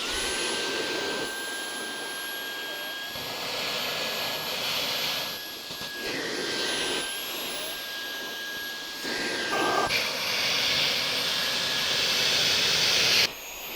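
Conga RockStar 2500 Ultimate ErgoWet stick vacuum running on its strong setting, a loud continuous whine with a high steady tone, nearby and unbroken for the whole stretch, with no talking.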